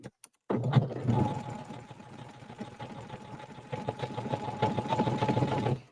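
A sewing machine runs a zigzag stitch to appliqué fabric onto a beach towel, its steady rapid mechanical whir continuing close and clear through most of the stretch after a brief silent start, with no talking.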